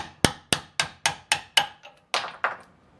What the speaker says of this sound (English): I'm actually pushing the bushing through now, just like what I wanted